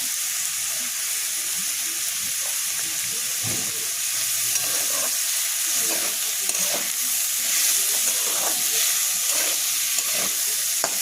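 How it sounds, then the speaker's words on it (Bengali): Potatoes, carrots and other vegetables fry in a pan with a constant hissing sizzle and intermittent stirring taps, steady and close throughout, with no talking. "এরপর এটাকে একটু লাল করে ভেজে নিতে হবে।"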